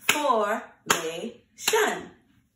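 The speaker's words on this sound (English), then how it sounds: "Let's clap it" A teacher at circle time claps out the syllables of a word, three sharp close hand claps in a steady beat, each landing with a spoken syllable.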